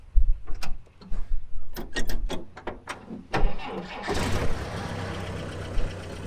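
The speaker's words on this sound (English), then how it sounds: "this got a super quiet little motor" A restored military vehicle's quiet little motor cranks with a few sharp clicks and bursts, then catches and settles into a steady, close idle.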